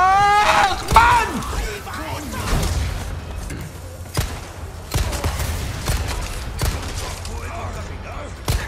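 Gunfire in Resident Evil 4 on PS5, with sharp shots cracking at irregular intervals amid clanks and impacts, while a player talks and exclaims excitedly over the action.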